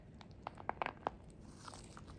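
Soft panda squishy toy crunched in a short cluster of quiet, close crinkly crunches, followed by faint rustling.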